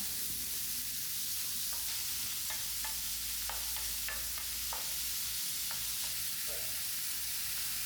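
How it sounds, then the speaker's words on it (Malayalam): Tomatoes sautéing for a kaduka fish curry hiss in a steady, even sizzle, with scattered light stirring taps and scrapes throughout and no voices. "തക്കാളി ഒക്കെ ഒന്ന് ചേർത്ത് വഴറ്റാം."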